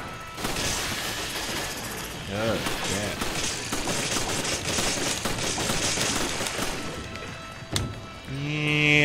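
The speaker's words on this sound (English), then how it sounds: "I start with a machine gun. Because I'm Jill." Automatic gunfire from Jill's machine gun in the video game Resident Evil 5, a steady loud rattle of rapid shots running almost the whole time over game noise and effects.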